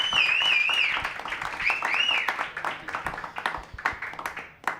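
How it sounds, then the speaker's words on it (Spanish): An audience claps for a podcast production team at a live show, a dense round of applause mixed with a few whistles near the start that thins into scattered, uneven claps toward the end. "Un aplauso para toda la gente que está detrás de esta producción increíble"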